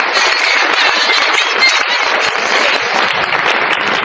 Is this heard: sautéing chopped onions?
no